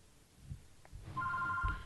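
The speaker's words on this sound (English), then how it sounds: "Stop calling my house phone." A house landline phone rings indoors, its steady electronic trill starting partway through and holding clearly above low room noise.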